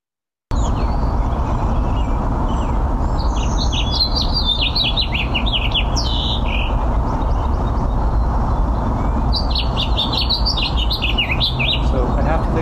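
A recorded house finch sings an extended, warbling song of rapid chirps and twittering phrases in two bursts over a constant low background hum, with no talking.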